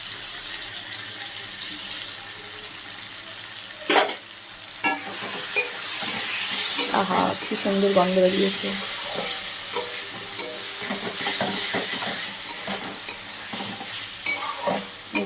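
Spices being sautéed and stirred for dhoka dalna give a low frying sizzle broken by repeated spoon scrapes and clatters against the pan, with a voice speaking briefly over it.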